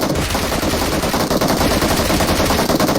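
Rapid automatic gunfire in the mobile battle royale game PUBG Mobile, a loud continuous burst of shots running dense and unbroken throughout.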